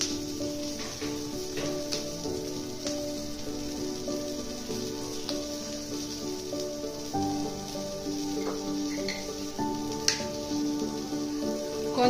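Cumin seeds frying in a pan of oil for a dhaba-style paneer butter masala, giving a steady close sizzle with small scattered pops and crackles, alone without talk.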